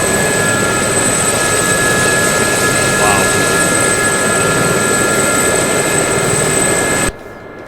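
The turbine whine and rotor drone of a Gazelle helicopter in the DCS flight simulator hold loud and steady as it sets down, then cut off abruptly near the end.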